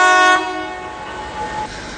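A commemorative tsunami memorial train at Peraliya gives one loud, chord-like horn blast that cuts off after a moment, leaving a fading rumble of the rolling train.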